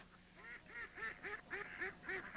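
A duck quacks in a quick, regular series of about eight nasal calls, faint and somewhat distant, with no voices over it.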